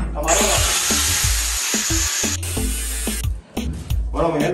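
A power tool cuts through a bathtub during a bathroom remodel, a loud continuous grinding roar for about three seconds, then a brief pause before cutting resumes close by.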